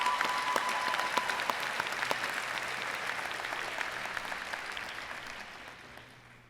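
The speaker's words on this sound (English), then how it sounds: "Let's give her a round of applause." An audience at a college event claps in a dense burst of applause that starts strong and slowly fades over several seconds, with no talking.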